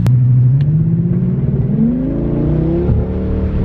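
A cheap V10 engine with a misfire revs loudly up close, its uneven, choppy rumble climbing steadily in pitch with a rough, popping pulse.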